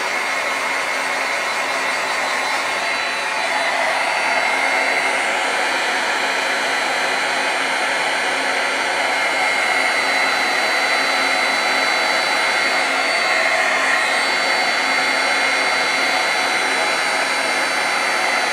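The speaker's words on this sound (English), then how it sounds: "Now, this heat gun's kind of loud, but what you'll see is amazing." A heat gun blows hot air onto a gift bag, a steady loud whooshing hiss that runs unbroken and close for the whole stretch, with no voices.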